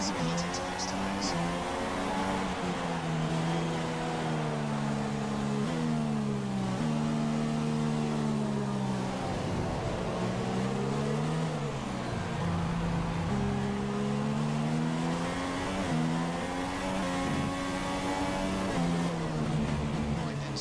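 A Formula 1 car in the F1 2016 racing game screams around the Chinese circuit, its engine whine climbing and dipping through gear changes in a continuous, close, loud drone.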